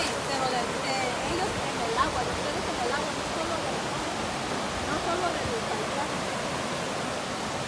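A riverside waterfall gives off a continuous, even roar of rushing water that holds steady throughout, a dense wash of noise with no breaks.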